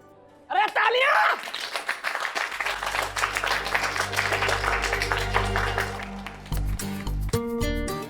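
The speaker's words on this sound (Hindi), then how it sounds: "अरे तालियां!" Sustained applause from a studio audience on a Hindi TV drama set, starting abruptly and holding loud and dense for several seconds before breaking into scattered claps and brief voices near the end.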